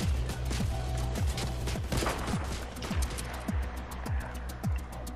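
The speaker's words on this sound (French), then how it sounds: "Ça tire du bush." Gunfire in Fortnite during a squad fight near bushes and trees, a rapid series of repeated shots spaced out over several seconds, moderately loud over constant game background noise.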